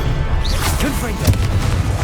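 The Confringo fire spell in Hogwarts Legacy bursts with a low, booming blast and whooshing crackle, heard close and loud amid game effects and a voice.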